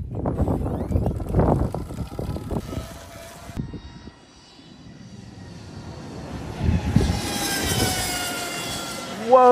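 Electric go-kart driven at full power, its motor rising into a high, whining, spaceship-like tone with wind rush, after a stretch of loud, close talking and rumbling movement.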